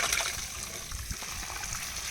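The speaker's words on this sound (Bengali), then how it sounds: "শাপলা থেকে যে জলটা উঠছে জলটা ফালা দিতে হইব" Water trickles and drains steadily out of cut water lily stems, a continuous close splashy dribble with no speech.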